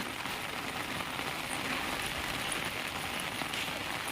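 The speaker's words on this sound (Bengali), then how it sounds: "বৃষ্টি হচ্ছে দেখো এই যে বাইরে আমি এই ছাতার মধ্যে রয়েছি" Rain falls on an open umbrella held outdoors, a dense, even patter and hiss that continues close and unbroken with no voices.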